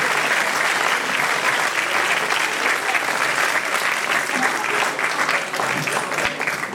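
A live crowd applauds at a Sardinian Christmas-tradition concert in Bitti, a loud, dense and continuous wash of clapping filling the whole stretch without any voices over it.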